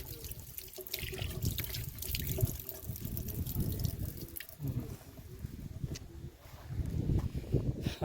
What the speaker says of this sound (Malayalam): പൈപ്പിൽ വെള്ളം ഉണ്ട് കേട്ടോ ഗൈസ്